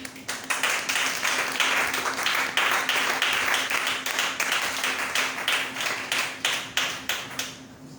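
An audience at a church Bible seminar applauding: dense, loud sustained clapping from a crowd that thins toward the end into scattered individual claps, with faint voices underneath.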